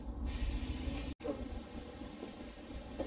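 Close, continuous hiss of an aerosol spray can, broken by one brief pause before the spraying resumes.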